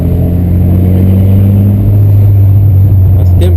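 A VW Santana with a 2.0 AP 2000 engine idles with a loud, steady low rumble inside a shopping mall parking lot, close to the microphone.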